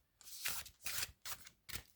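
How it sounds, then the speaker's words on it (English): A deck of fairytale oracle cards being shuffled by hand, four quick riffling bursts in a row, close and fairly quiet. "Let me give them a quick little shuffle, see how they shuffle."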